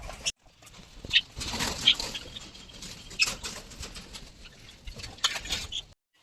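Small caged birds flutter their wings in several brief, soft bursts, with light scuffling and rustling between them against a quiet background.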